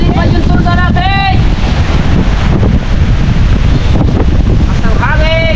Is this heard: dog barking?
no